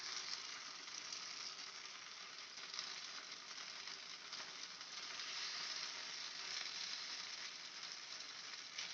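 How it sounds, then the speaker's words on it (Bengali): Spoonfuls of batter sizzle in hot oil for a street-style snack, a steady, close, even frying hiss that runs unbroken throughout with no voices. "এবার আমি তেলের মধ্যে ব্যাটারটা দিয়ে দেব।"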